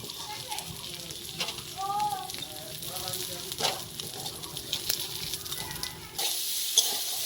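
Shrimp fry in hot oil in a pan with a continuous crackling sizzle, and a voice is faintly heard now and then beneath the frying.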